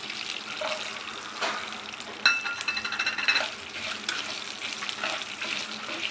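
Dried red chillies and garlic frying in hot oil for Andhra-style gongura pachadi: a steady close sizzle with scraping stirs and occasional clinks of a utensil against the pan.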